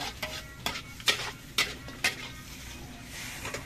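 Stirring in a pan while frying ingredients for noodle broth gives sharp metallic scrapes and taps at a steady pace over a faint background sizzle, with no voices.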